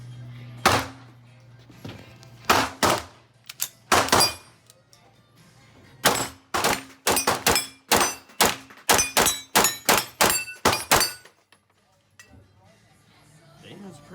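A B&T APC9 submachine gun fires in repeated sharp bursts and single shots, loud and close, with short pauses between strings of rapid cracks and a low hum underneath.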